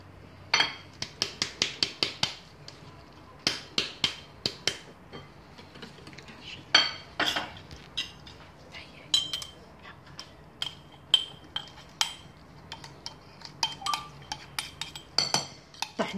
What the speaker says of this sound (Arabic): نستمر في التحريك